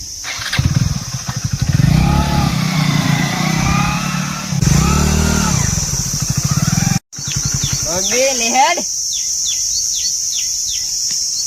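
Motorcycle engine running close by, throbbing steadily and revving in surges, briefly cutting out before restarting with a rising rev, while a voice talks over it.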